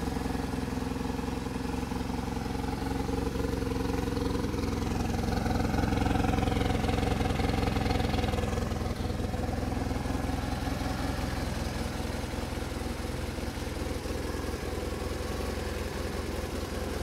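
A BMW R1150RT motorcycle with its shaft drive sits on fast idle, and the engine runs at a steady, even drone throughout. It stays close and constant, with no revving and no voices.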